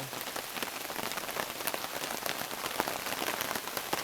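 Steady rain pours from a rain cloud cart, dense pattering of drops on a surface, continuous and close throughout.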